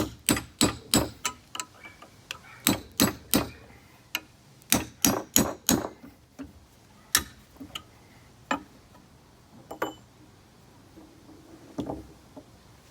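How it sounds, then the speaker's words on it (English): Sharp metallic hammer strikes on a punch to drive out an old axe handle, in quick bursts of several blows, then sparser single hits, close by with a faint background hum. "Use a punch and a hammer, keep it simple."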